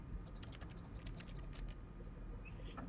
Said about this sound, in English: If I push buttons on my keyboard